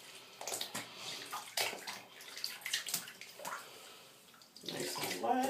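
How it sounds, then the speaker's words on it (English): A bundle of Brazilian body wave human hair is dipped and swished in water, with irregular splashes, sloshing and dripping close to the listener. It sounds like a sink or basin being used. "Dipping it into the water."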